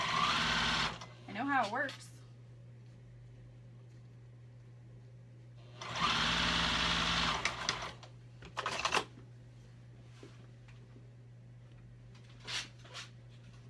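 A Juki 2000 QI sewing machine stitches in two short loud bursts, a quick run and a longer one, separated by quiet hum, while someone talks between and over the stitching.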